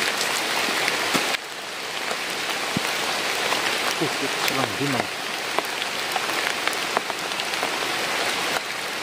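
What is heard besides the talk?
heavy rain falling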